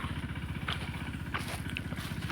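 A tractor engine chugs steadily in a peanut field during harvesting, a low rhythmic throb with faint clattering on top, continuous and fairly close.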